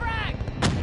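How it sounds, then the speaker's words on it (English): A frag grenade blast in the Call of Duty Black Ops 3 beta: one sharp, booming explosion rises out of dense gunfire and game noise, with a voice briefly audible beforehand. "Incoming frag!"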